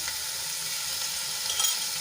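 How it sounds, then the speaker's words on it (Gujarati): A spoonful of crushed garlic sautés in hot oil, giving a close, steady, bright sizzle that barely changes, with no talking. "મેં અહીંયા એક ચમચી લસણ લઈ લીધું છે એને આપણે થોડું તેલમાં સાંતળી લઈશું"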